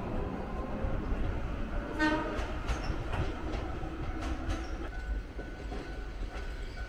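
A Toyama Regional Railway car built for Tokyu, its first air-conditioned model from 1979, rumbles along steadily with rail clatter and a few sharp wheel clicks and short squeals throughout, heard from close by.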